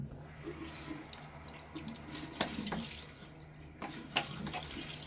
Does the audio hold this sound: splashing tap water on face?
yes